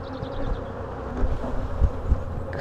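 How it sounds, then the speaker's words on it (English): A dense, steady drone of honeybees swarming over a frame lifted from a hive, close and continuous, with a few soft thumps as the frame is shaken. "just shake all these bees off"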